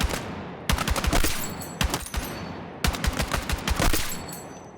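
Rapid bursts of DMR rifle fire in Battlefield 6, sharp loud shots in quick clusters separated by short pauses, with no talking over them.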